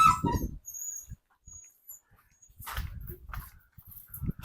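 A dog makes a few short yelps and whines nearby, separated by quiet gaps, with faint bird chirps in the background.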